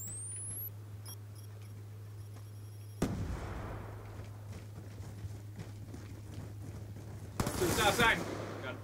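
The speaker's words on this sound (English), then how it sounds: "He just shot Billy." Gunfire from the Black Ops 2 video game crackles in irregular bursts over a low steady hum, with a louder flurry of shots near the end.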